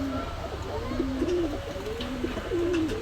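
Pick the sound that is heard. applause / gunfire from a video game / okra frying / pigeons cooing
pigeons cooing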